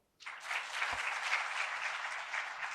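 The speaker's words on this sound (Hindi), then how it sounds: "अरे क्यों बजा रहे हो, फोकट में ताली बजा रहे हो?" A burst of applause from a lecture audience starts abruptly and continues steadily, a dense wash of clapping hands at moderate distance.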